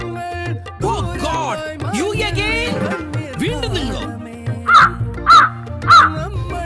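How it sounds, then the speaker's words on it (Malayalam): A crow gives three loud, harsh caws close by, evenly spaced near the end, after a stretch of other mixed vocal sounds. "കാക്കയുടെ കാർച്ച കേട്ടപ്പോൾ"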